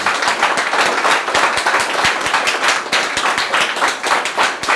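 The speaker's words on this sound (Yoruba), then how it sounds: "Ẹ jẹ́ á pàtẹ́wọ́ fúnra wa lẹ́ẹ̀kan." A worship gathering audience claps for themselves in a dense burst of applause, many hands beating rapidly and loudly together for several seconds with no talking.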